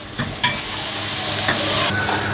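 Chicken Manchurian is stirred in a hot pan with soy sauce, chili sauce and black pepper, a loud close sizzle with scraping spatula strokes and brief louder hisses.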